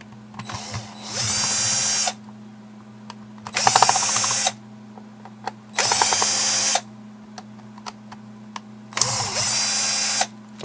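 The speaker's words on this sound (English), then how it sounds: "So let's get the screwdriver and get these taken out." A power screwdriver backs screws out of a Garmin StreetPilot GPS unit in four separate whirring bursts, each about a second or two long, with quiet pauses between them.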